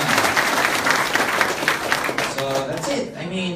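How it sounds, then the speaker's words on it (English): Applause from a crowd, steady clapping that carries throughout, with a voice talking over it near the end. "big round of applause?"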